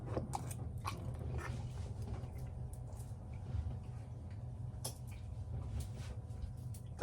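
Close, faint chewing of pasta with sauce, with soft wet bites and mouth clicks over a low steady background hum.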